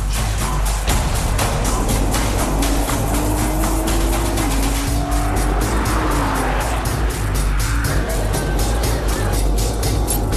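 A loud Nissan GT-R engine roars continuously at high revs at the Nürburgring in Germany, with tires squealing through fast corners, steady and close throughout.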